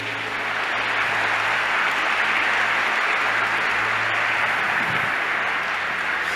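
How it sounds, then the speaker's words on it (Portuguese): Church congregation at a Catholic service applauding, a dense, steady wash of clapping that holds evenly throughout at moderate loudness, with no speech over it. "Uma salva de palmas à nossa igreja."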